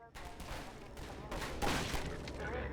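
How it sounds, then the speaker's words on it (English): Rapid pistol fire in Half-Life 2, a fast run of sharp gunshots packed closely together over a steady backdrop of game noise, fairly loud and close. "The gun will fire as fast as the player can click their input button"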